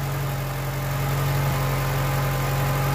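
An old VW Polo 86C engine idling, a steady low hum with an even throb, close and constant for the whole stretch, no voices.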